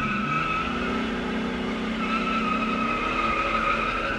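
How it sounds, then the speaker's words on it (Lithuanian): An old diesel car on a test drive spins its wheels on asphalt, a sustained high tire squeal over the engine's strained roar, continuous and close. "O dabar bandom važiuoti testuoti, pažiūrėti, ar velia ratus ant asfalto."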